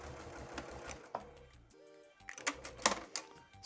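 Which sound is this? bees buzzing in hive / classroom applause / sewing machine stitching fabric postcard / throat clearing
sewing machine stitching fabric postcard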